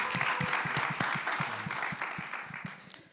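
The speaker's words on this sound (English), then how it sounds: "Another round of applause." Audience applause at a literary panel discussion during a Nairobi book festival, a steady wash of clapping that tapers off toward the end, with a few distinct louder claps standing out.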